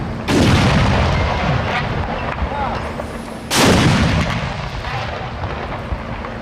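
Military artillery gun firing during the Iraq war, two loud booming shots about three seconds apart, each followed by a long rolling echo.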